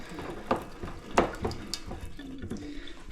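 Water still dripping from the plumbing under a Belfast sink after the supply was shut off, a few soft, close, irregular drips and trickles over a quiet background.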